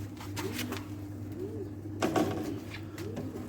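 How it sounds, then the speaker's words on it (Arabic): Domestic pigeons cooing in a loft, several soft rounded coos repeating over a steady low hum, with a faint knock partway through. "هذولا 10 حفاي، عيون بيضة عيون سود مشكل، بس طيور حلوة ونظيفة"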